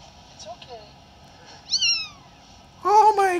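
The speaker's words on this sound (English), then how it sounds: "Oh, you can hear the little meows." Kittens give a few small, high meows played back from a MiniDV tape on a Sony Handycam DCR-VX2100, quiet at first and then a louder cluster at the end.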